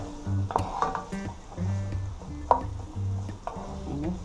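Cabbage and saltfish sauté in a pot, Jamaican style, while being stirred: a soft sizzle under repeated scraping and clinking of a utensil against the pot in short uneven strokes, close up.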